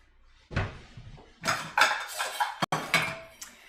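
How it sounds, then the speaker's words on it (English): A bowl of salted mixture is stirred by hand in a home kitchen, giving a run of close clinks and scrapes of utensil against bowl in uneven bursts with short pauses, and no voices. "I'm just gonna stir this by hand in a bowl"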